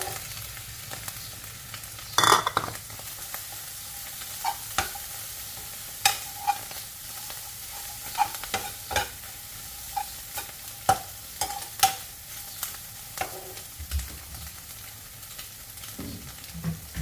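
Instant noodles stir-fried with chili flakes and green onion in a hot pan, a steady sizzle under repeated scraping stirs and utensil taps, close up with no voices.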